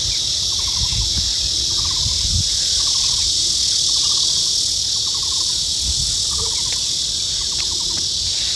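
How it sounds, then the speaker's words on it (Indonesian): Crickets and other insects chirp steadily in a dense, continuous outdoor chorus, with soft rhythmic trills and a few faint bird calls. "Ada bunyi serangga, bunyi burung,"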